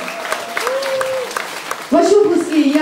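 An audience claps for a speaker at a talk, a light patter of applause running under a host's voice, with someone exclaiming loudly near the end.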